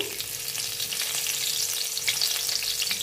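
A split chilli fries in about two spoons of oil in a pan, producing a dense, continuous crackling sizzle with no talk.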